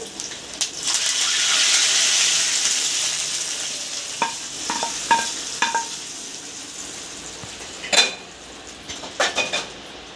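A frying dal tempering sizzle gives way to several metallic spoon clinks and scrapes against a pan as dal soup is stirred in, close by with no talk.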